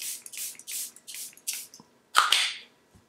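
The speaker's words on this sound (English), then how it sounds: "This is the Airbrush Flawless Finish Setting Spray." Several short hissing sprays of makeup setting spray puff out onto a face in quick succession, then one longer, stronger burst, close and fairly soft.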